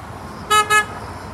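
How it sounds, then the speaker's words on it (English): Sightseeing bus horn at Bournemouth Pier, a Transpora open-top bus, sounding two short, fairly mild toots in quick succession over a low outdoor traffic hum. "That was not loud at all, that horn!"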